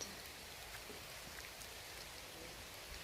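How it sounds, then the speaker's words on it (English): Steady rain hisses evenly on surfaces by a small church and graveyard in the Rhodope Mountains, Bulgaria, a soft continuous patter with no voices. "it's raining."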